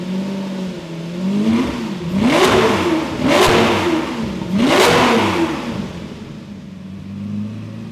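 Bizzarrini V12 engine in a Giotto Bizzarrini car, revved to about 4000 rpm: three loud rising-and-falling blips in quick succession over a steady idle that settles back down afterward, close to the microphone and with no talk.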